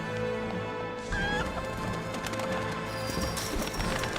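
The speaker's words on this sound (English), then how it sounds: "there's a man throwing live chickens at us" Chickens flung by a man in a tense Heavy Rain game scene, with clucking fowl, hoof-like clip-clop thuds and crashes mixed into a dense, busy bed of game music and effects.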